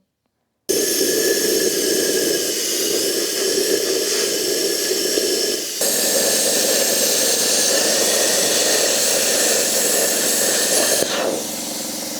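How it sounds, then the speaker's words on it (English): Plasma cutter cutting a hole in an old gas bottle: a loud, steady close-up roaring hiss that runs almost continuously for about ten seconds with one brief break, then cuts off. "I've got a plasma cutter, so that's what I'm going to use for that"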